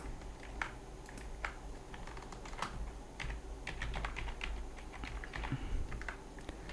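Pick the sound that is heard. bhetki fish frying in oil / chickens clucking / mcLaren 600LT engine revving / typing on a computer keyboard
typing on a computer keyboard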